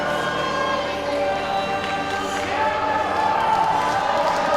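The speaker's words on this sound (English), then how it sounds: "Oh, the crowd are really pushing him on." The crowd at a bouldering world cup final in Toronto cheers a climber on, a sustained dense roar of voices and shouts that builds slightly, with a commentator talking over it.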